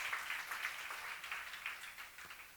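A church congregation claps during a sermon, a soft, distant patter of applause sustained throughout.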